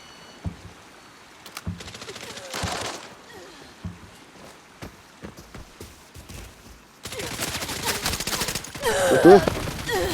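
Gunfire from a shooting video game: scattered single shots and short bursts crackle over a quiet background, then a dense, louder volley of rapid fire erupts near the end.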